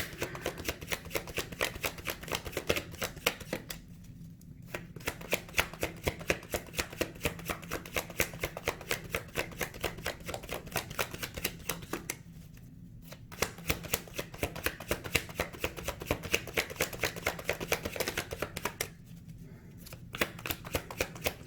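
Rapid riffling shuffles of tarot cards, crisp repeated flicks in long bursts separated by short pauses, close and clear.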